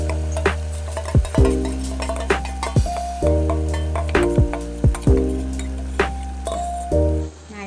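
Marinated chicken fries in green chilli paste for biryani, stirred in a pan with wet squishing and scraping. A light sizzle runs throughout, broken by occasional metallic clinks of a spoon against the pan, with a steady tonal hum underneath.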